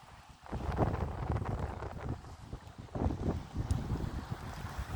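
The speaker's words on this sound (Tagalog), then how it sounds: "Ang lakas ng hangin." Strong wind buffets the microphone in a continuous low, roaring rumble that swells in gusts, loud and close, with no one speaking.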